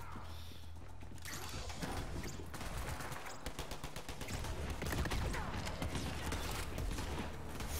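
Dense, continuous gunfire from the shooter game Borderlands 3 rattles throughout, rapid bursts stacking over one another at steady close range with no pauses.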